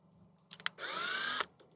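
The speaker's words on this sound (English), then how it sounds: "And I also want to pre-drill this." Power drill pre-drilling a hole in wood while mocking up a boat bow cover: a few short taps of the trigger, then one steady high whine lasting about half a second, close and clear, with no talking.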